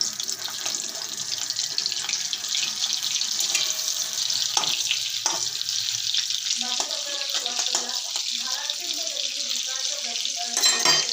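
Oil and butter heating for a pav bhaji tempering, a loud continuous sizzle and hiss close by, with clinks and scrapes of a utensil in the pan partway through.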